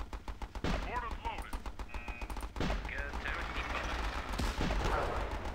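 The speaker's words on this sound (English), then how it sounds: "Come on, turret. Shoot!" Gun turret firing at a tank in the video game Battle Islands: Commanders, bursts of rapid gunfire with loud impacts repeating across the clip, with a voice speaking briefly over the shooting.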